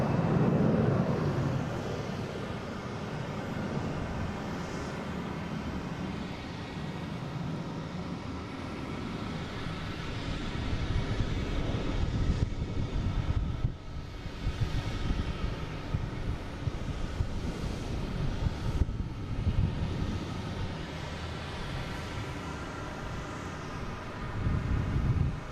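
A Delta Airbus A321, flight 973 bound for Atlanta, departs Boston Logan International Airport, giving a steady, moderately distant jet rumble with wind buffeting that rises and falls over the span.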